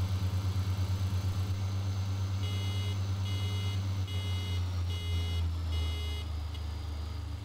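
A modded vehicle engine in Farming Simulator 13 idles with a steady low, throbbing hum, while a faint repeating beep pattern sounds over it partway through. No one speaks.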